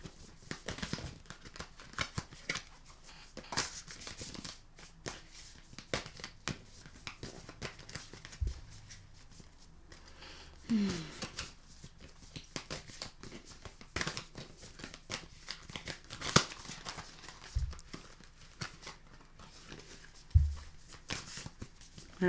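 A deck of cards shuffled by hand in a quiet room, with repeated soft riffles, flicks and papery slaps, irregular and close, sometimes sharper clacks, continuing throughout.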